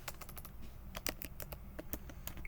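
Fingers tap quickly on a computer keyboard, a close, quiet run of crisp key clicks in uneven bursts while a command is entered, with no talking.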